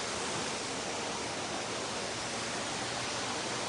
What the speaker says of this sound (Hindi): इस तरह से स्विमिंग पूल से पानी इस वाटरफॉल में आता है, देख रहे हैं आप, इस वाटरफॉल में पानी आता है, उसकी आवाज़ बड़ी खूबसूरत लगती है।